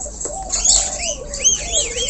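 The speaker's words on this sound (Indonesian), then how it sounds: "Yang selanjutnya adalah burung Galak putih atau Galak Pito" Bird calls from a white starling (jalak putih), clear whistled notes with rising and falling sweeps, repeated in a short sequence close by.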